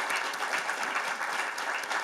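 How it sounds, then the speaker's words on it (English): Audience applause for speakers and panelists at a forum on Liberia's economic development, a steady, dense patter of many hands clapping that holds evenly for the full stretch with no voices. "Join me again in giving our speakers and our panelists another round of applause"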